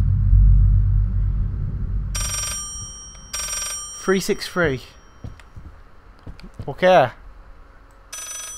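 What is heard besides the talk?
telephone ringing in video game Layers of Fear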